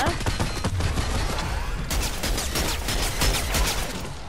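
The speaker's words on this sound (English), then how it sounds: "Minigun! Yes." Minigun firing in the Fortnite video game, a dense, continuous rattle of rapid shots that holds steady across the whole stretch, with a slight shift in texture partway through and other game sounds mixed in.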